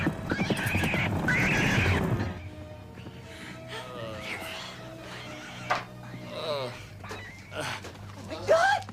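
A horse whinnies and neighs several times in a chaotic outdoor scene, heard after a loud burst of shouting, with brief high calls scattered through the clip.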